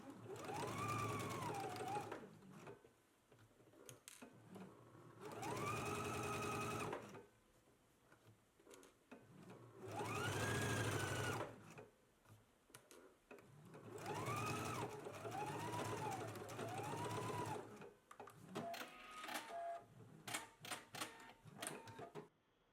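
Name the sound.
sewing machine stitching a 5/8 inch seam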